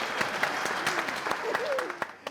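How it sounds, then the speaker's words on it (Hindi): A studio audience on the comedy show F.I.R. applauds in a steady, moderate wash of clapping, with sharper individual claps poking through and a voice briefly heard over it. "बजा लो जरा सब ताली बजा लो"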